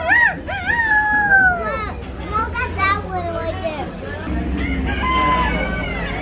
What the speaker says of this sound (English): That's what chickens sound?